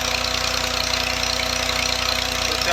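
An old-model Massey 240 tractor engine runs a tubewell turbine pump, a steady loud diesel chug with an even knocking rhythm and constant hum, no voices.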